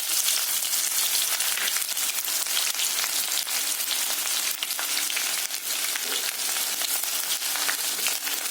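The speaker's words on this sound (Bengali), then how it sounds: "পেঁয়াজটারে হালকা ভাজি দিব আগে, খুব ভাজতাম না।" Chopped onions fry in hot oil in a pan, giving a steady, dense, close sizzle with crackling and no talking.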